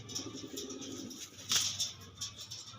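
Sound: male pigeon cooing

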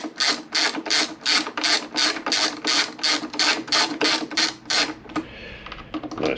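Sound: ratchet undoing motorcycle seat unit screws

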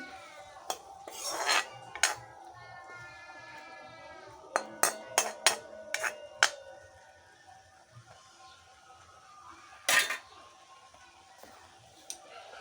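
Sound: stirring lychee chutney in a pot after adding lemon juice

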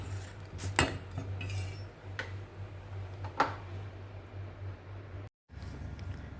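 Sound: mixing spinach saag with gram flour in a pot

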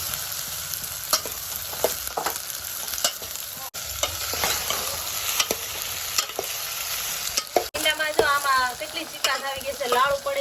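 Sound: okra frying and being stirred in oil

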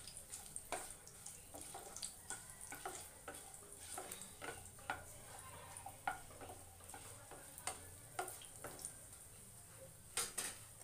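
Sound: cumin and garlic cloves frying in a pan

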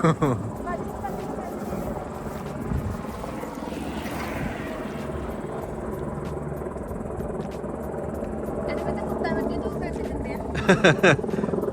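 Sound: helicopter flying overhead

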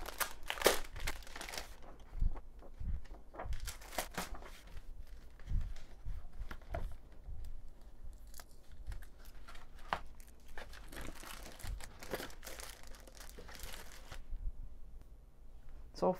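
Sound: opening sticker paper package, crinkling

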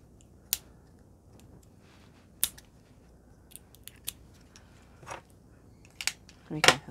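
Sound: scissors cutting packaging

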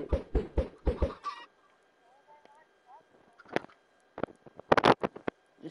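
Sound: chickens clucking in the video game Minecraft

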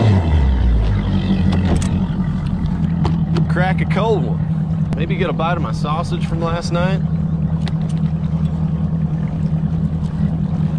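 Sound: boat motor idling across water

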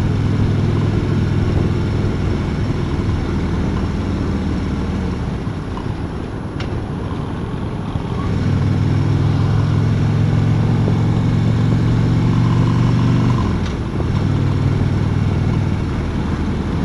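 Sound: Harley-Davidson Road King motorcycle engine running

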